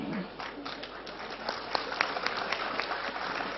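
Audience applause in a hall at a talk, a dense steady wash of many hands clapping, fairly faint and distant, with a few louder individual claps standing out toward the end.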